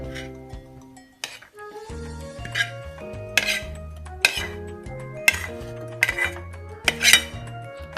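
Fried rice is scraped and spooned onto a plate, with repeated clinks and knocks of a metal utensil against a pan and dish, ringing tones and some scraping, close and fairly loud.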